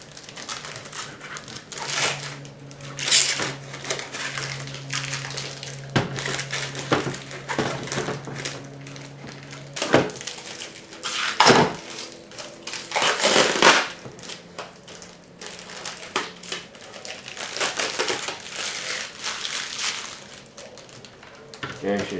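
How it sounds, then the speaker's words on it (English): Crinkly plastic wrapping being pulled off a Shark Matrix robot vacuum cleaner, loud rustling and crumpling bursts up close, with a person talking in between. "So let's take the plastic off of it."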